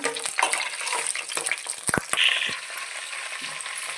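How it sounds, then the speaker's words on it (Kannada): Mustard seeds, cumin and curry leaves crackling in hot oil for vegetable rice bath, a busy sizzle with sharp pops and spatters, near and fairly quiet, no talking. "ಎಣ್ಣೆ ಕಾದ ನಂತರ ಸಾಸಿವೆ ಜೀರಿಗೆ ಹಾಕಬೇಕು."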